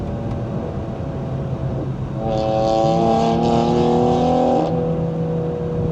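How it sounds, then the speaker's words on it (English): A BMW 340 with a B58 engine and FBO stage 2 tune drones along the highway, its exhaust steady and loud from inside the cabin, then swelling into a harder, raspier pull midway before easing back. "All I can hear is these exhausts right now."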